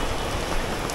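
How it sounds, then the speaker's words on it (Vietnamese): Heavy rain pours steadily in Nha Trang on a morning street lined with gold shops, a dense, continuous hiss of drops hitting surfaces close by, with no talk. "Quá trời mưa luôn quý vị."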